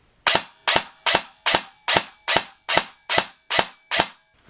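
An AATV Double Eagle M908A airsoft replica fires on semi-auto, ten sharp, evenly spaced snapping shots in quick succession, close and loud, each followed by a brief mechanical ring.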